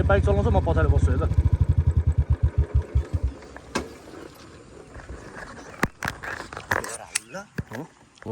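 A superbike's engine revs with a loud, pulsing roar that climbs and then dies away, followed by sharp clicks and brief voices nearby.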